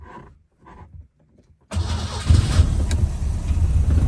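A 1970 Lancia Flavia Milleotto Berlina with a Solex PAIA 32 carburettor is cranked on choke, with brief faint sounds first and then the engine catching at once into a loud, steady, rough idle that runs to the end.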